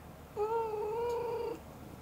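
A pet cat gives a single drawn-out, fairly clear meow in reply, lasting just over a second, heard alone against quiet room background.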